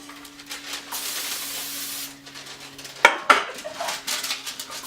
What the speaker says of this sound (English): I spray the pan, I put the liner in, I spray it again